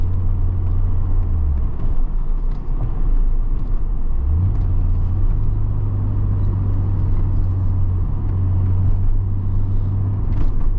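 A manual-transmission car slows down with a loud, steady engine rumble whose pitch drops, then rises and holds as the gears change, heard from inside the cabin.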